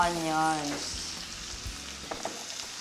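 Onions sizzle in oil in a pan, a close frying hiss with a short voice-like tone at the start, followed by soft stirring scrapes and light clicks.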